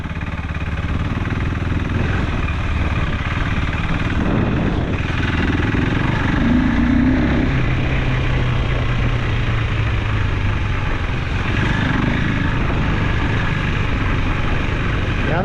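A KTM 390 Enduro R single-cylinder motorcycle engine drones steadily while riding off-road, loud and close throughout, with slight rises and dips in revs.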